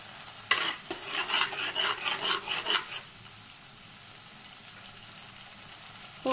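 Spice masala being stirred and fried for a fish curry, with a burst of rhythmic scraping strokes in the pan for a few seconds, then a quieter low sizzle continuing alone.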